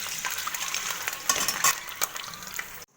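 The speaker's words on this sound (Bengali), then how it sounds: "তো হালকা করে একটু ভেজে নেব" An egg fries lightly in a pan for a Bengali steamed egg dish, giving a soft, steady sizzle with a few stirring scrapes and light clinks, heard close by without talk.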